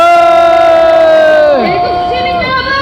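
A crowd at an anti-impeachment street rally cheers for a youth spokesperson, with a loud sustained shout or whoop ringing out over the noise before it breaks off and trails down into scattered crowd noise.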